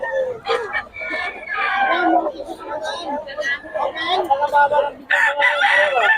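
A rooster crows over a busy background of overlapping voices in Bocaue, Philippines, with several loud calls rising out of the chatter close by.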